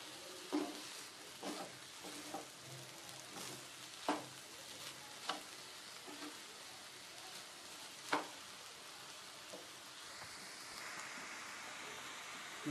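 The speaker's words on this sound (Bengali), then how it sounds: "আমি ভালোভাবে নারিকেলটা অন্য সব মশলার সাথে মিশিয়ে নিচ্ছি।" Grated coconut stirred with spices in a pan, a faint dry rustle broken by scattered scrapes and taps of the spoon against the pan at irregular intervals, quiet and close.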